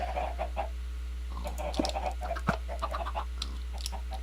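Minecraft chickens clucking in short, scattered bursts over a steady low game hum, moderately close, with no talk.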